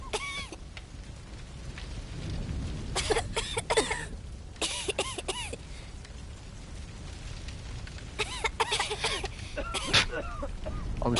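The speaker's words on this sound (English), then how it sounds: "All this cough sounds stupid." Coughing bursts arrive in scattered clusters, several short sharp coughs and throat clearing, fairly near, over a quiet background, with a voice speaking between them.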